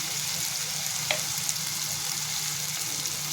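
Shrimp masala with tomato, turmeric and spice powder frying in a pan, giving a steady close sizzle throughout with one or two faint clinks of a spoon.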